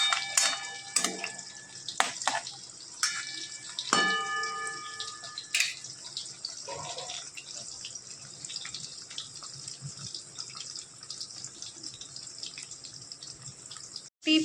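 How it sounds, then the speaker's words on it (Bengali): Potatoes fry in oil in a wok with a steady, moderate sizzle. Sharp metallic clinks and scrapes from a utensil come early on, and the sizzle continues alone after that. "তোমরা দেখতেই পাচ্ছ, আমি আলুগুলোকে এখন ভেজে নিচ্ছি।"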